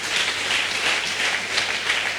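A church congregation applauds in a brief, dense wash of clapping that holds at an even, fairly loud level, with no voices standing out above it.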